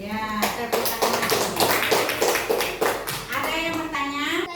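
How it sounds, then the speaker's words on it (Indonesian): Classroom clapping during an Indonesian school lesson, a run of irregular hand claps from students mixed with children's voices and chatter, steady and moderately loud throughout. "Iya, tepuk tangan."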